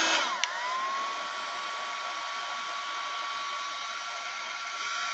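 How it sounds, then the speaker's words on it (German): A hair dryer blows steadily and fairly loudly, drying a first layer of Distress Oxide ink paint on a craft background, its whine holding an even tone throughout. "jetzt föhne ich das erstmal trocken und dann gehen wir nochmal drüber."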